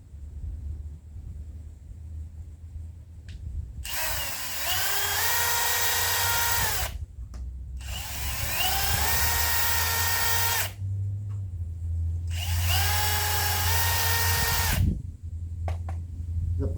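A power drill bores shallow pilot holes into a wooden marine trailer bunk: three loud whining bursts of about three seconds each, separated by brief pauses, over a low background rumble.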